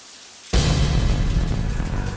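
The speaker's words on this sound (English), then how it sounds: "Can you hear that? Is it rain? No, it's the shower." Water from a shower in the video game Deadly Premonition starts abruptly after a short quiet moment, then hisses on as a loud, steady broadband spray.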